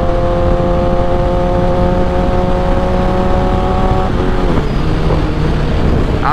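Motorcycle engine droning loud and steady while riding in third gear, a constant close rumble that shifts pitch slightly near the end, with no talking.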